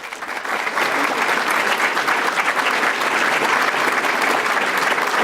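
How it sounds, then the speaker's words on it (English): An audience at a panel discussion on news and democracy breaks into a full, steady round of applause that swells quickly and holds at a loud, even level without letup. "a big round of applause"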